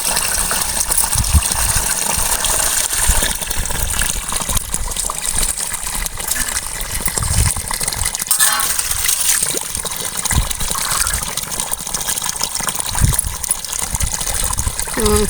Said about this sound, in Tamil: அந்த கீரையை வந்து நல்லா அலசி எடுத்து வச்சுக்கலாம்